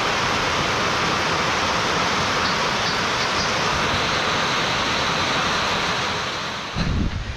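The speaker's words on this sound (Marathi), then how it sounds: "पाऊस बघा केवढा पडतोय." Heavy rain falls in a continuous, loud, broadband hiss and roar, steady throughout, with a brief thumping disturbance near the end.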